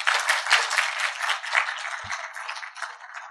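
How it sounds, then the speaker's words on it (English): At the close of a religious conference Q&A session, an audience gives a round of applause, a bright, crackly stretch of many hands clapping, moderately loud and fading slightly. "please give a big round of applause"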